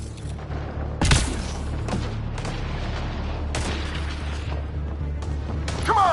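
Gunfire in the video game Mass Effect Andromeda, scattered sharp cracks and booming shots spaced a second or two apart over a low rumbling backdrop.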